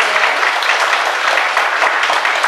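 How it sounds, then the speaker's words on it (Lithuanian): A village autumn festival audience claps steadily for a folk ensemble from a community leisure hall, with loud, sustained hand clapping from many people throughout. "Paplokim folkloriniu ansambliu"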